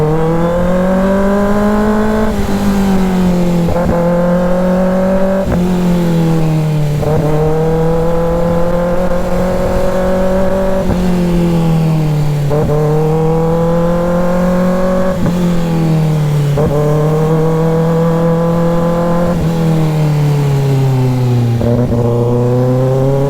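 A motorcycle engine hums steadily while riding, its pitch rising and dipping through repeated gear shifts, loud and close throughout.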